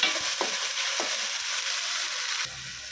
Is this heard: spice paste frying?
yes